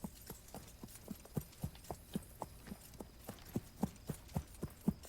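Horse hooves clip-clopping in a frontier-themed video game, a soft, regular walking rhythm of distinct hoofbeats with a faint hum underneath, no talk.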